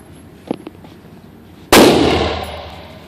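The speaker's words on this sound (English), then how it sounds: "This is a gun." At an outdoor shooting range, one sharp, loud gunshot cracks and rings out in a long decaying echo. Two faint knocks come just before it.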